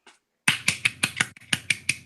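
A stand-in for a clap: after a brief faint sound and a pause, seven or eight crisp, dry snaps land one after another at a quick, roughly even pace, close and alone.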